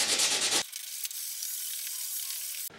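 Hand sanding of a guitar body with 100 grit sandpaper gives two short bursts of harsh, close scratchy rubbing, one at the start and one at the end, with a quiet pause between.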